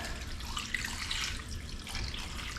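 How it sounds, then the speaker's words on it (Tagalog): Water being poured into a cooking pot, a continuous splashing gush close by, loud and unbroken for a few seconds. "Lagyan natin ng tubig."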